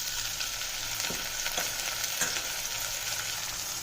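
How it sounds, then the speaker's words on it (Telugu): Shrimp frying in hot oil for a ridge gourd shrimp curry, a dense steady sizzle with a few soft stirring knocks, close and loud, with no talking. "ఈ ఆయిల్ హీట్ అయిన తర్వాత మనం కడిగి పెట్టుకున్న రొయ్యలన్నింటినీ కూడా ఆయిల్లో వేసుకొని ఫ్రై చేసుకుందాం"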